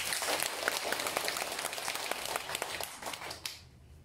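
An audience applauds camp leaders at a temple experience camp, a dense burst of many hands clapping close by that holds steady, then thins and fades out over about four seconds.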